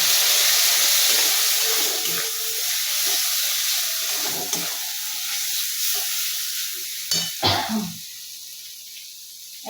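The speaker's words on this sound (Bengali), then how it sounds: "একটু জল দিয়ে দিচ্ছি মশলা যাতে তুলে না যায়" Spices sizzle steadily in a pan while water is poured in for a Bengali mutton chusta, with a sharp burst of hissing and bubbling near the end over a constant frying hiss.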